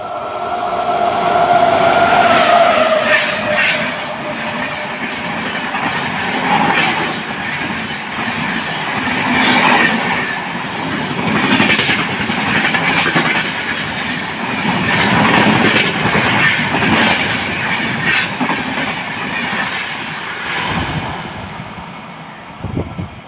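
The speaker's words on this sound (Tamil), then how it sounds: "நிறையா ட்ரெயின்ஸ்லாம் நல்லா பறக்குது" A train rolls through Mankara station on the Palakkad–Shoranur line in Kerala, a loud continuous rumble with repeated clickety-clack of wheels over rail joints, rising and falling in waves as the wagons pass, ending in a few brief thumps.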